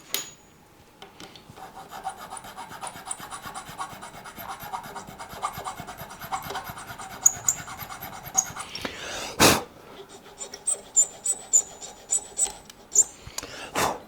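Hand filing on the nut of a scratch-built pink Jazzmaster guitar: a steady rasping, rubbing stroke close up for about nine seconds, then a sharp burst and a run of short separate scrapes.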